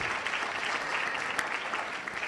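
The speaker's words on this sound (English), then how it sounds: "Let's give them a round of applause" At a breakfast event in Polokwane, Limpopo, a crowd breaks into a short, dense burst of applause, steady and fairly loud from start to finish.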